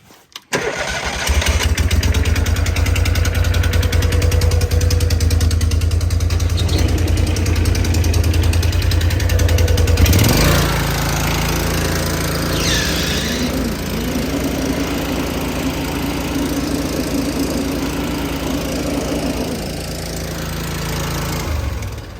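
An SVL 1000 engine cranks and catches, settling into a loud, steady mechanical run with a deeper, rougher idle after the first ten seconds, close and alone without talk.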